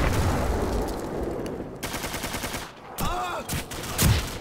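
Rapid automatic gunfire bursts from a Call of Duty Frontlines Domination match, loud and close, with gaps between volleys and a sharp report near the end.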